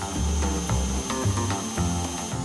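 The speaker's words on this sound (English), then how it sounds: "I don't want to whisk too much because I don't want to lose the air in the batter." An electric mixer whisks vanilla-scented cake batter for a three milk cake, a loud steady motor whir with rhythmic pulsing beats as the beaters churn, close and alone.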